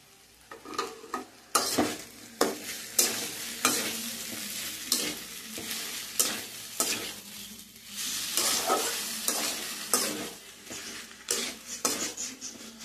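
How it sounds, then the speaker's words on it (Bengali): Taro stolons cooked with shrimp are stirred in a pan over a low flame, giving repeated scraping strokes of a utensil against the pan over a soft continuous sizzle, close and uneven in rhythm. "এইভাবে ভালো করে নাড়াচাড়া করে একদম লো ফ্লেমে আমি রেখেছি।"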